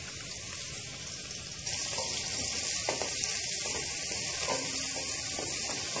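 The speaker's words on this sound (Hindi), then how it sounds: "मीडियम फ्लेम पे इसे फ्राई करेंगे" Finely chopped medium onion fries in two tablespoons of oil over a medium flame, a steady hissing sizzle that grows louder partway through, with a few soft clinks of stirring.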